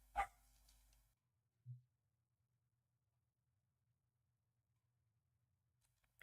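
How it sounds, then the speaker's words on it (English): A single short dog bark lands at the very start, followed by a soft low thump and then near silence with a faint hum. "I apologize for the dog."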